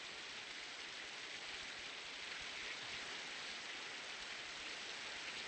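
Steady rain pouring down outdoors, a dense, even hiss holding at the same moderate level throughout, with no voices over it.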